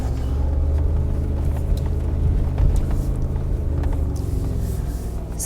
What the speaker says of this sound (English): now I drive in a circle and I try not to steer too much with the steering wheel